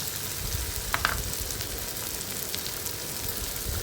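Turmeric, coriander powder and other ground spices fry in oil with softened tomato for spicy masala vangi, giving a steady close sizzle with a brief stirring clatter near the start.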